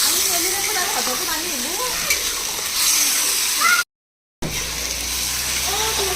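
Pieces of chicken sizzle and hiss in a pan with a little added water, a steady bubbling simmer with a brief gap, while people talk over the cooking.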